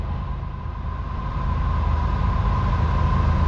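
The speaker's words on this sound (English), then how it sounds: "We finally got a CSX. I haven't seen a CSX train in weeks." A CSX freight train rumbles past nearby, a dense, loud roar of wheels and rail noise with a steady whine running through it.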